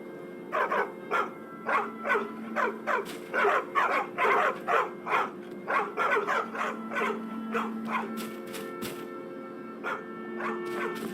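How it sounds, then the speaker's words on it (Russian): A dog in the video game Skyrim barks repeatedly in a steady, rapid series of sharp yips, fairly close and loud, then tails off into quieter whimpering. "собака."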